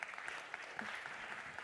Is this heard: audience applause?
yes